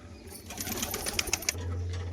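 A male and female pigeon pair coos softly nearby, a low cooing with faint flutters and light clicks close by.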